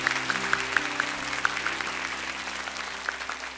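A church congregation at a special early-morning revival service applauds to bless its children, a steady wash of clapping with a few sharper individual claps over a low organ-like drone.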